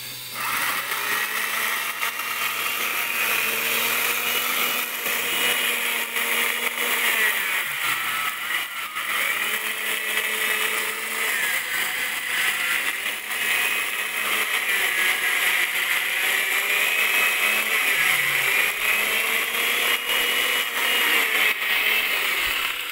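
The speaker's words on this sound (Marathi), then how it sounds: "तर चला आता मी दाखवते समर्थ कसं लाकडं कापतोय" A loud, continuous motorised whine saws through firewood for a milk-boiling stove at a farm, rising and dropping in pitch as the blade bites and eases, running steadily and close without talk.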